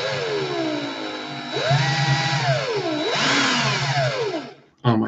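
Cordless drill whirring steadily on its slow setting during coil building, a loud harmonic motor whine that sweeps up and down in pitch as the load changes, with a brief cut near the end.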